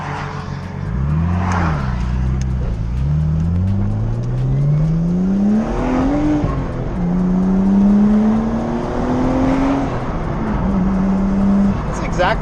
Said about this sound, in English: As long as she do a burnout